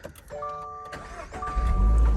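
A manual-transmission 2022 Subaru BRZ cranks and fires up from inside the low cabin, a brief whirring starter followed by a deep engine rumble that swells and settles into a steady idle, close and fairly loud.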